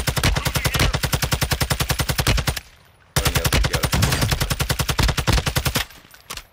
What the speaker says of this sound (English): I was getting sniped from somewhere